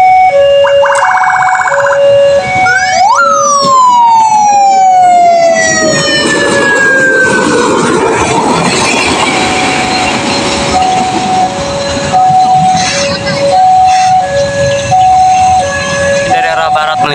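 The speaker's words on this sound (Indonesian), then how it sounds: "Ini dia lori Tayo, lori kecil nih, melintas langsung Stasiun Cicalengka." A small rail lorry passes straight through Cicalengka station, its horn and siren-like tones sounding loudly over rumbling rail noise, with repeated warning tones continuing as it goes by.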